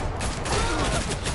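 A fusillade of gunfire, dense rapid shots blending into a loud continuous roar for the whole short stretch.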